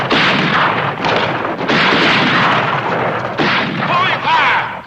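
Loud gunfire from a western shootout, several sharp shots and booming reports in quick succession, close and harsh, with shouting voices mixed in.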